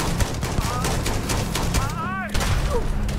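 Rapid ballistic gunshots from conventional firearms in the space game Starfield, a steady run of loud sharp reports throughout with a brief whistling tone partway through and speech faintly mixed in.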